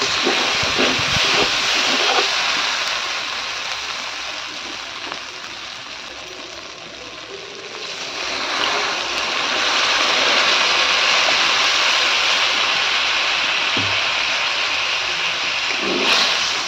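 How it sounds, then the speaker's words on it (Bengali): Water poured into a pan of sizzling fried spice paste, giving a loud, steady hiss and bubbling roar that holds for the whole stretch, swelling slightly partway through, with no talking. "এই মশলার মধ্যে জল দিয়ে দেবো।"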